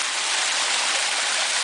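Small streams of running water beside a creek give a close, continuous, even rushing and splashing sound with no voices over it.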